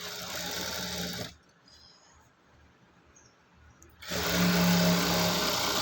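An electric sewing machine stitches a buttonhole-style strip in a steady high whir, stops for a few seconds of near quiet, then starts up again even louder.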